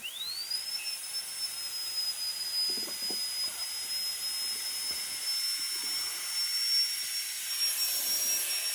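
Rotary carving tool with a burr spinning up to a steady high-pitched whine like a dentist's drill, running continuously and fairly close while a faint low scraping of carving wood shows underneath.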